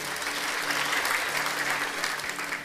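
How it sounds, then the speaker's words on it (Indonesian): A church congregation applauds during a worship service, a steady, dense wash of clapping that holds at an even level from start to end. "Beri tepuk tangan."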